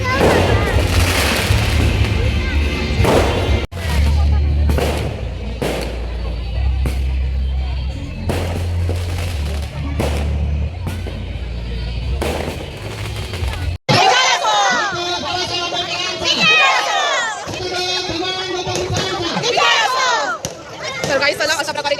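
A large crowd celebrates Bhim Jayanti at midnight, loud and close, with rhythmic chanting, shouts and booming drum or firecracker-like bursts throughout, and voices cheering over the din.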